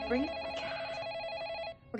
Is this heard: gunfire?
no